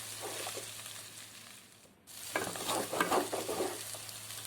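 Chicken fry being stirred in a pan, a steady sizzle with scraping stirs that dips briefly into near quiet before picking up again, close and moderately loud with no talking.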